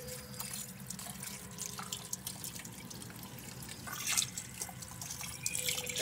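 Tap water runs and splashes steadily into a sink as vizcacha meat is washed, with drips and sloshing that grow louder near the end, close by and without talk.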